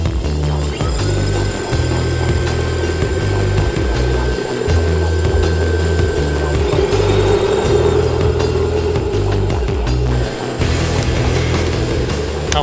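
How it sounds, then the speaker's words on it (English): A blower forcing air into the fire of a furnace built from a toilet gives a loud, steady, droning roar with a low pulsing hum, continuous and close throughout. "if we turn the blower on, it'll put a lot more oxygen into the fire, making it a lot hotter"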